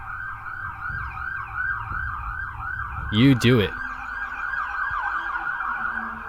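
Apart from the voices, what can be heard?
ambulance siren passing outside window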